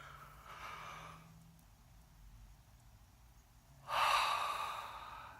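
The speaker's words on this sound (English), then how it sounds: "some meditation, which is deep breathing exercises like this" Deep breathing during meditation: a long audible inhale, a quiet pause, then a strong, breathy exhale that fades out slowly, all close and with no talking.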